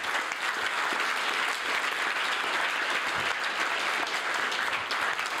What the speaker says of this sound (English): I would like a big round of applause for all of our sponsors.